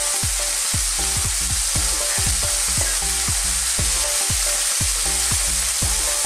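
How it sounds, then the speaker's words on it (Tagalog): Goat meat for a Filipino kaldereta fries in hot oil with a loud, constant sizzle and sharp crackling pops of splattering grease, punctuated by repeated scraping stirs, close up and steady throughout. "Mag-iingatan din po kayo sa tumatalsik na mantika para hindi kayo matalsikan sa braso."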